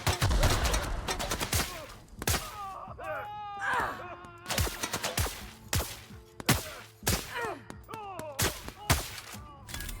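Repeated sharp pistol shots crack out in the game The Outer Worlds, fired in uneven bursts across the scene with whooshing and creature cries between them.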